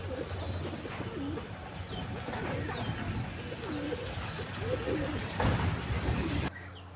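Racing pigeons coo repeatedly in soft, throaty bursts at a pigeon derby, with a crowd's murmur and some talking in the background.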